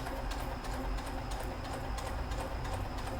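A sewing machine fitted with a ruffler foot runs steadily, a soft, continuous mechanical whirr with faint regular ticking, fairly quiet and close with no talk.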